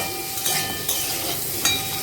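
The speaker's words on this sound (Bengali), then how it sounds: "আমি কিন্তু লাল লাল করে পটলগুলোকে ভেজে নেব" Pointed gourd (potol) pieces fry in oil with salt and turmeric, a steady soft sizzle broken by a few brief stirring scrapes and light utensil clinks, close by and with no talk.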